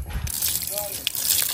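Water runs from a newly installed faucet at a house, a steady rushing splash under nearby voices.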